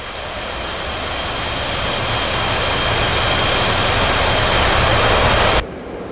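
An F/A-18 Hornet jet engine in the DCS flight simulator game: a loud, steady roaring jet whine that swells gradually, then cuts off abruptly near the end, with no talk.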